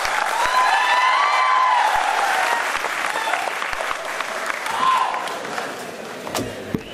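A hall audience at a felicitation event for an IPS officer breaks into sustained applause, loud and dense at first, then gradually thinning toward the end with a few scattered sharp claps and faint crowd murmur.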